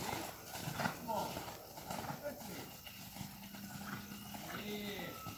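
Horse hooves during a riding training session in an arena, the gait shifting from canter to trot, a steady rhythmic clip-clop running under continuous coaching speech.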